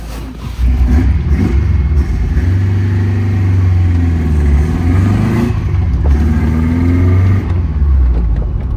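An Alfa Romeo car engine fires back up and revs, close and loud, holding a steady rumble with rising and falling revs throughout.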